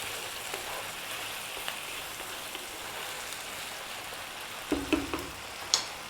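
Fresh chili sizzling in a hot pan for chicken biryani, a steady close crackling fry with a few louder pops and stirring clatters near the end.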